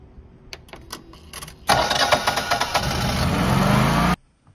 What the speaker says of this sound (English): we gotta observe and record the stepper motor movement